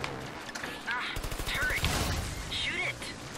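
Gunfire in Trials of the Blood Dragon comes in quick bursts of rapid shots, loud and close, mixed with other game sounds.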